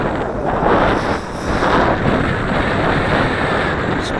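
Strong outdoor wind gusting around a small Eachine CG022 quadcopter drone, a dense, loud, continuous roar of microphone buffeting that swells and eases slightly throughout.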